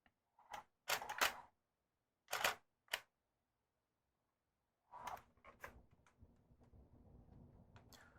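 A Canon EOS 60D DSLR fires its shutter in several crisp mechanical clicks, some single and some doubled, in a quiet room, followed by softer handling rustles.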